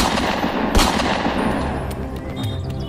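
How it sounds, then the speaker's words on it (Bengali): Gunshots sound as a sound effect in a Bengali detective audio drama: a burst of rapid, overlapping shots over dense rumbling noise, loud and close, with no talk. "গুলির আওয়াজ নাকি?"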